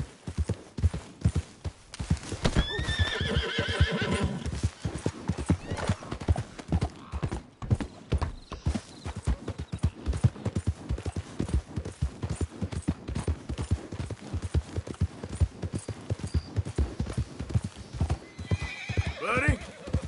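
A horse gallops in Red Dead Redemption 2, its rapid clip-clop hoofbeats driving steadily and close throughout, with a neigh rising early and another whinny near the end.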